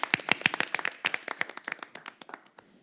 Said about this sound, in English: Let's give a round of applause for Ms. Tina Hicks